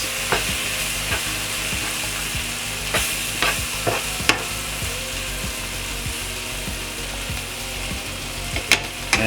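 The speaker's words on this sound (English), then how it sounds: "to thicken the sauce. Give it a little mix." Thickening meatball sauce, with flour stirred in, is mixed in a pan, with steady sizzling and scraping and frequent sharp clicks of the utensil against the pan throughout.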